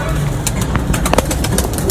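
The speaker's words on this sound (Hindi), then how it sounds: "अच्छी बॉडी की बहुत अच्छी कबूतरी है" Pigeons coo softly in a loft among other birds, with light flutters and background chatter; the coos come in short repeated bursts close by.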